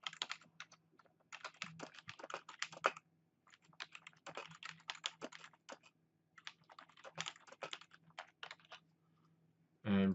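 Computer keyboard keys typed to enter text into an error alert field, a close, quiet stream of light clicks in irregular bursts with brief pauses, ending in a sudden loud thump.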